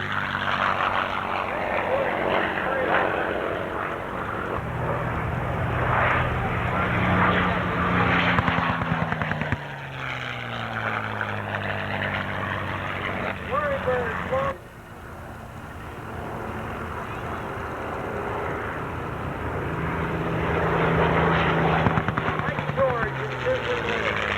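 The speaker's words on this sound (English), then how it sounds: "On a fighter run, the P-51." A P-51 Mustang fighter plane makes a low fighter run at an air show, its propeller engine roaring loud and steady, the pitch sweeping down as it passes, with the drone continuing throughout.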